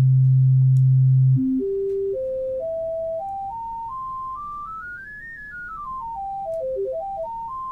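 A pure sine tone starts low, then steps upward through its harmonic series, each a clean whistle-like tone, before dipping and rising again.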